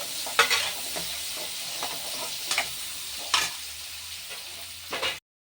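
Green chillies and ginger garlic paste frying in a pan for an egg curry with fenugreek leaves: a steady close sizzle with occasional stirring scrapes and clinks, and no talk.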